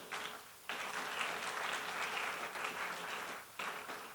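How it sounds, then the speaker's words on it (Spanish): An audience at a university lecture applauds to welcome a priest as speaker, fairly faint clapping that rises abruptly, holds steady, dips briefly and resumes near the end. "Recibamos pues con un fuerte aplauso al Padre Jesús Villagrasa"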